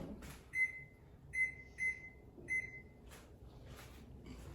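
An oven control panel beeps four times as it is set to the proof setting, short electronic tones with button presses and faint kitchen noise around them.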